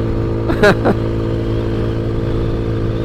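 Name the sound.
Ice Bear Maddog scooter riding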